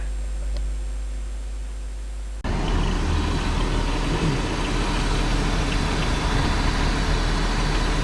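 A BMW E39 523i idles smoothly and quietly, a steady low engine hum that runs alone and continuously, stepping up abruptly in level partway through.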